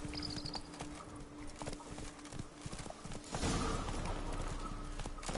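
Roach, a horse in The Witcher 3, gallops with rhythmic clip-clop hoofbeats that grow heavier and more rushed partway through, over a low game ambience, with a brief whinny early on.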